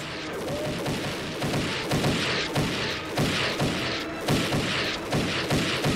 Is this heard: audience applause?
no